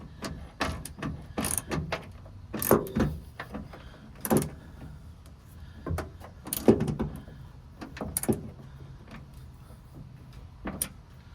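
Tailgate assist part on a Ford Maverick being tightened, with a series of sharp ratcheting clicks and mechanical clacks in irregular bursts, close by and with no talk.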